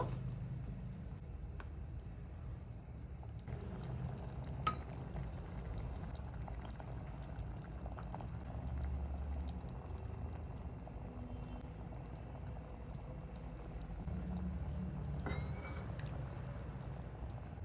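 Egg sambar simmers on medium heat in a pot with whole eggs laid side by side, giving a faint, steady bubbling and soft popping throughout with no voices.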